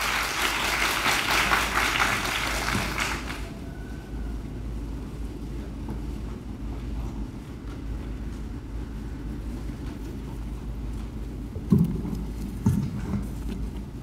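Applause from the audience at a Taipei youth working-holiday information session greets the head of the Youth Development Administration for the first few seconds, then cuts off, leaving quiet room ambience with a couple of faint knocks.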